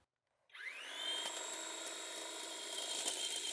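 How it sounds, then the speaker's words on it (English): Large powered hedge trimmer starting up and cutting a dead hedge, its steady high-pitched motor whine holding close and loud, with a few brief snaps from the blades, no voices. "This is a beautiful hedge trimmer and I love it, and it's huge, and I think that will clean up this end pretty good."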